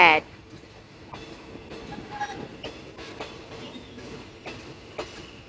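A Bangkok–Chuk Samet train rolls into platform 8 at the Bangkok station, with a steady rumble and rhythmic clickety-clack of wheels over rail joints and faint squeals, heard at moderate distance.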